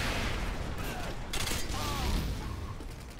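Bursts of gunfire shooting down Harrier jets in Modern Warfare 2, rapid muffled shots and booms over a rumbling game backdrop, with a sharp crack near the middle and faint voice traces.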